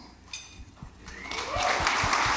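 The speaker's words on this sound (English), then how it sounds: "Yeah, you can clap" Audience applause at a sports writers' banquet, starting as a few scattered claps and swelling into a fuller round of clapping from a crowd, with low thumps underneath.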